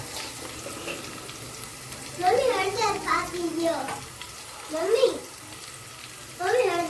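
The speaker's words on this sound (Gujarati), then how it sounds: "પેલા લીલી ડુંગળી નાખીને પછી લીલી અને લાલ નાખીને હલાવવાનું છે" Green onion and chillies are stirred in a pan for shing bhajiya curry, with a soft steady sizzle and intermittent scraping stirs close by, while a voice talks over it at times.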